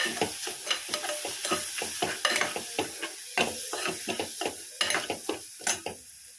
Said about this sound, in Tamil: மஞ்சள் சேர்த்துட்டு இப்போ நல்லா அதை கலக்கிடுவேன்.